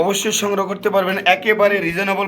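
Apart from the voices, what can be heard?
No distinct noise like a dog, phone or traffic.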